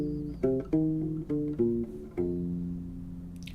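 Guitar plays the opening measure of a fingerpicked passage, a sequence of clear plucked note changes over about three and a half seconds, close and alone with no talk.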